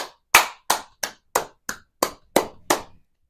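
Nine sharp, separate hand claps land at a steady, slightly uneven pace, each crisp and close with silence in between and no talking.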